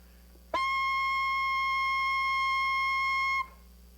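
One long, steady high A on saxophone, played with an alternate fingering bringing down the right hand, rings out for nearly three seconds, bright and close, alone without any voice.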